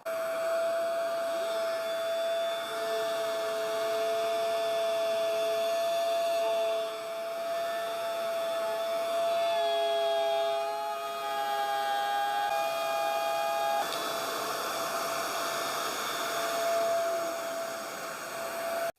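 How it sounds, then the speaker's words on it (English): A Trend T18 palm router cuts through 18mm MDF while a Hoover shop vac runs for dust extraction, giving a loud, steady high-pitched whine whose pitch dips and shifts as the bit works the board. "I'm going to switch the shop vac on, and we're going to see how well the router performs."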